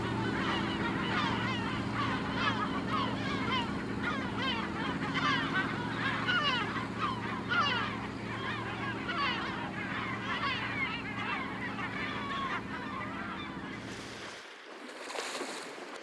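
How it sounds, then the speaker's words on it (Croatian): Yellow-legged gulls call at sea, loud repeated honking and squawking cries in a dense, continuous chorus over a low engine-like drone from a boat, the calls fading out near the end. "Galebovi klaukavci veoma su oportunistični i hrane se svime što mogu pronaći."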